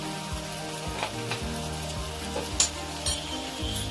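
Ground cumin and coriander sizzling in hot oil with the other ingredients for a Bengali bhetki fish curry, a steady close fry punctuated by scraping stirs and utensil clinks.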